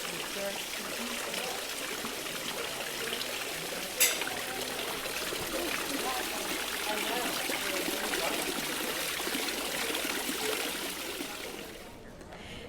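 Waterfalls run inside a tropical plant conservatory at Longwood Gardens, a steady rushing and splashing of water that continues throughout, with faint voices and one brief sharp click partway through.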